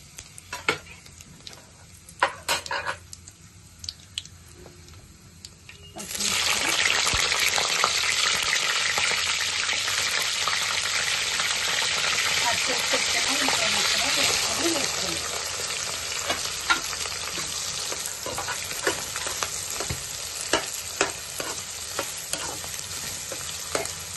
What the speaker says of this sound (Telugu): మనం ముందుగా స్పైసీ కోసం కొంచెం సాజీర, యాలకు, లవంగాలు, దాల్చిన చెక్క, బిర్యానీ ఆకు వేసాను